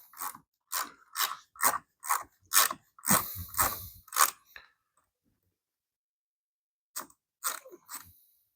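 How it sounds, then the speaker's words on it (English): A ratchet fitted with a T20 Torx bit loosens a latch screw on a 2014-2024 Harley Touring motorcycle. Close, steady ratcheting clicks run for several seconds, then pause, then a few more clicks follow. No voices. "So all you need is a ratchet and a T20 bit. So go ahead and break that loose."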